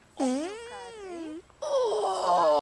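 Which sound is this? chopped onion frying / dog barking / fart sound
fart sound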